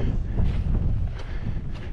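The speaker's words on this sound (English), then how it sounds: "I'm just about to be hit by big wind coming around up over here." Strong gusting wind on an exposed Lake District hilltop, a continuous roaring buffet that batters the microphone, with louder surges coming and going throughout.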